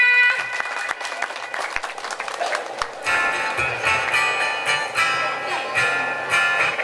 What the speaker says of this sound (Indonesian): Para supporter tepuk tangannya mana?